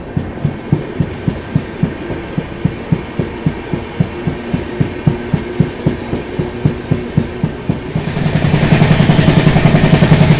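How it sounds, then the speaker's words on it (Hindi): Dehradun Express train running at speed on rails, with a steady rhythmic clickety-clack of wheels over rail joints, close and loud, swelling into a denser roar near the end. "अच्छी खासी रफ्तार में फिलहाल अपनी ट्रेन भाग रही है।"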